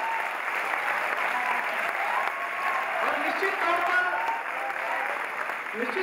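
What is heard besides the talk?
audience applause at award ceremony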